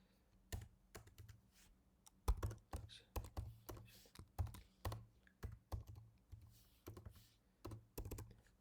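Steady keyboard typing, a run of sharp clicks and thunks in uneven bursts, close and clear with no talking.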